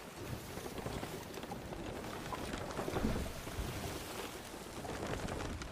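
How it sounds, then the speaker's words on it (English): Thunderstorm at sea in Sea of Thieves, with steady heavy rain and a low rumbling wash of noise and no clear single thunderclap, no talking. "There's still one lightning bolt!"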